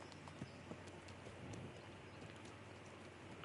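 Horse hooves clip-clopping in the medieval game Kingdom Come: Deliverance II, a soft, steady patter of hoofbeats over a faint rain-like hiss, with no voices present.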